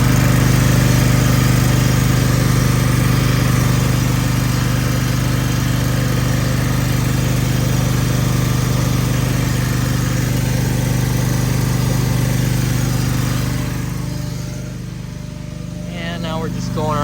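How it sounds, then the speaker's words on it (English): Reel mower units on a golf course maintenance bench being backlapped with 120 grit compound, a steady loud mechanical drone with a low hum that runs throughout and eases near the end. "we've got a little backlapping going on here with some 120 grit."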